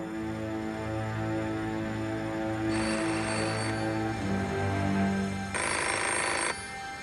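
A telephone rings in an apartment, its electronic ring tone sounding in repeated bursts against a steady musical background with no voices.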